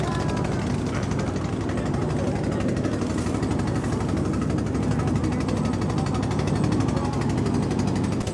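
A motorboat runs along the bank of the Jamuna River at Sariakandi. Its engine gives a loud, steady drone that carries through the whole stretch without a break.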